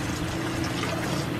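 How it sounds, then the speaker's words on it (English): Tap water runs in a steady, close stream into a cup, a continuous splashing rush of even loudness over the short span, with no one speaking. "turn off the water"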